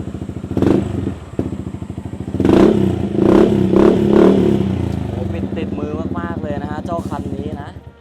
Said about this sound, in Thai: เรามาฟังเสียงท่อกันหน่อยดีกว่านะครับ